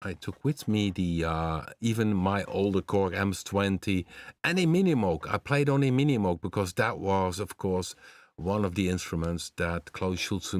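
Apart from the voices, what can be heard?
No everyday noises stand out.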